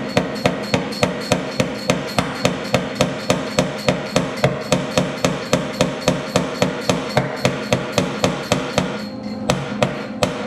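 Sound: hammering metal seat pan

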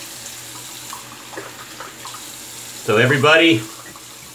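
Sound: rinsing lather off under running tap water

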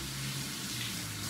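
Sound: water running while rinsing craft flower pot

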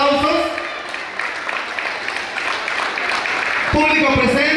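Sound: audience applause at a preschool graduation ceremony

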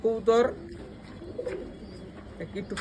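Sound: pigeon cooing

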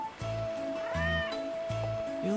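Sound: cat meowing, from video game Final Fantasy 7 Remake

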